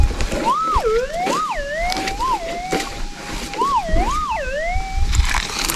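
Gold detector signal warbling over a target in the Victorian Golden Triangle goldfields: a wavering electronic tone sweeps up and down in repeated swoops, fairly loud over outdoor background noise, with no talk.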